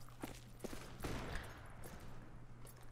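Gunfire from the Western shooter game Fistful of Frags sounds as scattered, fairly faint shots, with one heavier burst in the middle over a low steady hum.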